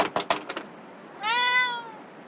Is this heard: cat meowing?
yes